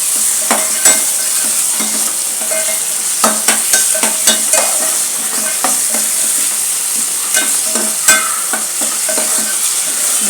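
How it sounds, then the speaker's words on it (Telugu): Ginger garlic paste hits a hot pan for Kadapa-style chicken pulao, giving a steady loud sizzle with repeated sharp scraping and clinking of a spoon stirring throughout, no voices. "అల్లం వెల్లుల్లి పేస్ట్ వేస్తున్నాను."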